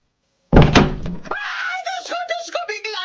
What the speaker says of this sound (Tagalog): bigla na lang bumukas ang pinto!